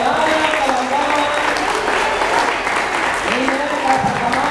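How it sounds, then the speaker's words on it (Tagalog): A church congregation claps together after the gospel reading, a dense, steady round of applause in an indoor hall, with a preacher's voice speaking over it. "Palakpakan natin ang mabuting balita."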